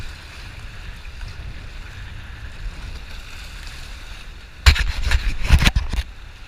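Wind buffets the microphone during a solo kayak run on the St. John River in Maine, a steady low rumble that swells into louder rushing bursts and splashy gusts near the end.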